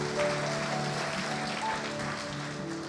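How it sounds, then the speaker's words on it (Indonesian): A church congregation claps at a distance, faint and steady, with sustained musical tones running beneath. "Tepuk tangan buat Tuhan Yesus"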